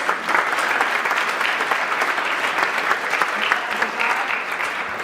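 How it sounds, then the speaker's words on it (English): A crowd in the New York City Council chambers applauds steadily at an Irish heritage celebration, with a full, sustained patter of many hands that stays even for several seconds. "let's just give a round of applause to our organizers"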